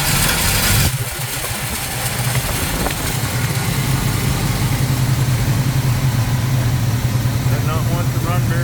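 A 1971 Plymouth Cuda engine with a coolant leak turns over from a remote starter and catches, then runs loud and uneven at idle with a rough, lumpy note while people talk nearby.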